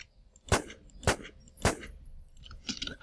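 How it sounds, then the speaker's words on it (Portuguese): Three sharp gunshots in the video game Infestation: The New Z at even intervals, each followed by a short metallic ring, with quieter clinking afterward. "Mais um tiro, velho."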